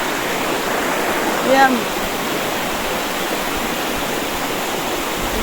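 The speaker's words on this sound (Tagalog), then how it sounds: "Kung nakikita yun sa aking likuran, ay isang maliit na ilog." A small river flows steadily behind a man, a constant broadband rush of water that stays even throughout, with his brief speech and a faint high call over it.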